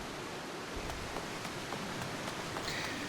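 Steady rain falls across an outdoor area in Final Fantasy XIV, a dense, even hiss with faint scattered drops, and no voices heard.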